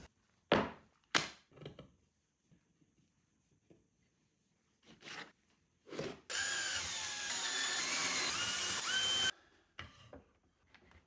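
A power driver fitted with a long bit sinks screws into a wall cabinet: a few short clicks and bursts, then one sustained whirring drive lasting about three seconds, close and clear with no talking.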